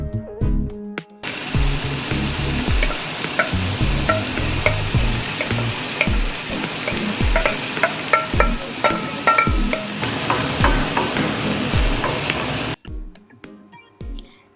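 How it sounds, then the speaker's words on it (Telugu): A large finely chopped onion and two cut green chillies fry in two spoons of oil in a pan, a loud, dense sizzle with repeated utensil clinks and scrapes as they are stirred, starting and stopping abruptly. "ఒక ప్యాన్లో 2 స్పూన్ల ఆయిల్ వేసుకొని చిన్న చిన్న ముక్కలుగా తరిగిన ఒక పెద్ద ఉల్లిపాయని, అలాగే కట్ చేసుకున్న 2 పచ్చిమిర్చి కూడా వేసుకోండి"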